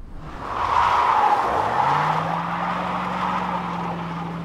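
A Prius pulls up with a loud tire screech and skid, followed by a sustained engine hum as the car arrives close by, with no talking.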